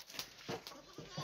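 A few short bleats come from a pair of polled pregnant goats on an Alagoas farm, sounding in quick bursts at close range with faint rustling between the calls.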